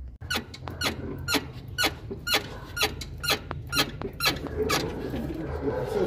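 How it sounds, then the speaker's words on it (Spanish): A worn suspension ball joint on a Chevrolet S10 pickup squeaks in a steady repeating rhythm, loud and close, with a low rumble underneath. "Esta es la camioneta S10 que traíamos, la rechinadera"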